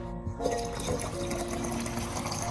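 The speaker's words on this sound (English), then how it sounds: "Next, I add about 500 milliliters of clean water to dilute the nutrient solution." Clean water poured into a container to dilute an orchid nutrient solution, a steady liquid splashing and trickling that runs continuously at moderate level, with some tonal ringing mixed in.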